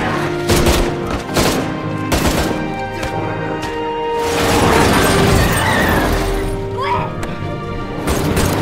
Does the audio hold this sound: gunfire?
yes